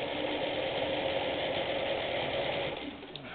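A Singer sewing machine stitches along the edge of a pocket with a steady close mechanical whir, then slows and stops near the end, with no talking.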